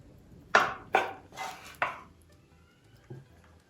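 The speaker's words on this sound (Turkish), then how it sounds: "Bir bıçak yardımıyla dörde bölüyoruz." A knife chopping through pastry dough on a board, four close, crisp knocks in quick succession followed by a softer tap, with a quiet background.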